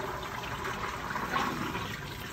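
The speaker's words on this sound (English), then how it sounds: "There is a drain plug right here that you can uncap. And then start to drain all of that water out." Coolant water drains from the opened drain plug of a Glidewell TS150e dental milling machine, a steady close trickle and gurgle like a small flush, continuous and moderately quiet with no talking.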